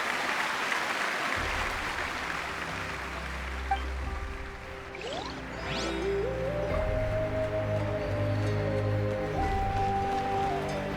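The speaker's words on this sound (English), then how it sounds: "give him a resounding round of applause" Crowd applause for the hero at the end of a parade in the Genshin Impact video game, a broad steady wash of clapping that carries on over tonal game music for the whole stretch.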